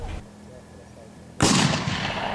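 A single cannon blast at a Civil War-era historical reenactment at the Road to Olustee event, a sudden loud boom after a quiet lull, followed by a rumbling echo that rolls on.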